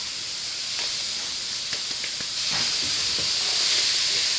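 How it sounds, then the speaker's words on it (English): Fennel and onions searing in a dry pan give a continuous close hiss that grows a little louder partway through, with faint scattered crackles and no voices. "now I'm going to put in my fennel and I want it to sear"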